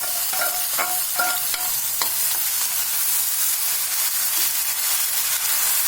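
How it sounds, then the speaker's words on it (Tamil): Tempering spices sputtering in a pan, then onion paste frying and being stirred, with a continuous loud sizzle and scraping stir strokes close up, no voices. "இதை போட்டு பொரிஞ்சதும் நம்ம வெங்காயம் பேஸ்ட்டு அரைச்சி வச்சுருக்கோம் இல்லையா அதை இதில் போட போகிறோம்"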